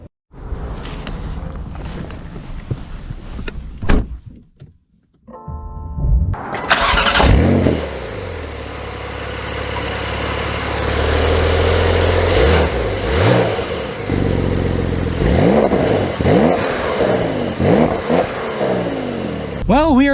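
A 2023 Porsche 911 GTS engine cranks and catches with a sharp flare, then settles and revs repeatedly, rising and falling in loud close bursts between steady idling, with a person talking over parts of it.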